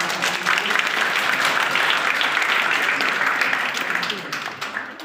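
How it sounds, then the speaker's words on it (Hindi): Loud, dense applause from an audience at a university Ramanujan Jayanti event, honoring a mathematics department head, sustained for about four seconds before fading slightly. "ऐसे शिक्षक और विभागाध्यक्ष के लिए जोरदार ताली"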